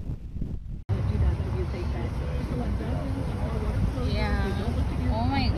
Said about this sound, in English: that might be a 90 mile an hour wind gust there